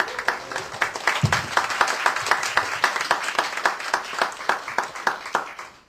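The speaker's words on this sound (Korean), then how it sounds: "나오셔서 이제 말씀 전해주실 때 큰 박수로 환영해 주시면 감사하겠습니다" A church audience at a workplace retreat claps in warm, steady applause to welcome a pastor, many hands beating in a dense, even rhythm that fades slightly toward the end.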